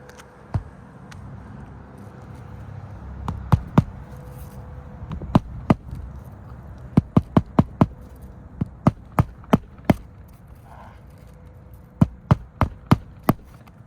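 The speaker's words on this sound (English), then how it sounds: "I need to lift this shingle up high enough so I can swing my hammer and clear the shingle" A hammer strikes while a roof shingle is lifted, giving sharp, isolated knocks that come singly at first and then in quick bursts, close by over faint background noise.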